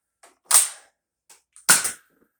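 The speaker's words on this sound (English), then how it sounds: "It literally feels like you're going to break it when you shoot it. It's got a really stiff prime to it." A toy foam dart blaster with a stiff priming action is cocked and fired twice, each time a small click followed by a sharp, loud plastic snap and thump, close up with no talking.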